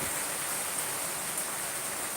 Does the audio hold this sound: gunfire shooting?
no